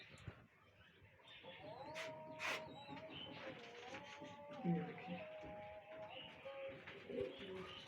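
Pigeons coo softly in low, repeated calls among chirps and background bird chatter, with some faint talking nearby.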